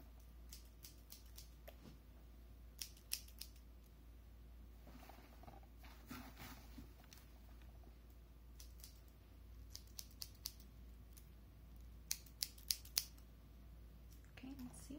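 Scissors snipping hair during a salon haircut, sharp close crisp cuts in irregular clusters over a soft low hum, quiet and intimate with no talking.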